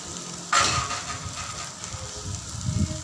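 Water poured into a hot pan of white kurma curry with ground masala and sautéed potatoes, a sudden loud splash and hiss that settles into a steady sizzle and soft bubbling.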